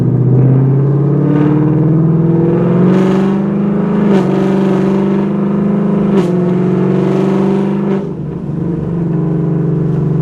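A 2019 Ford Mustang GT V8 with a cam-sound tune idles with a deep, loping rumble, pulsing unevenly with occasional light throttle blips, close and loud.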